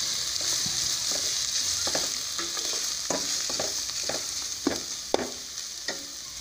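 Carrots and bell peppers frying in a pan, a steady close sizzle with soft scraping stirs every second or so and a few sharper clinks near the end, no voices.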